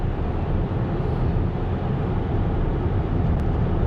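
Cabin of a 2022 Volkswagen ID.4 electric car while driving, a steady broadband road and wind rumble, dense and constant, heard from inside with no talking.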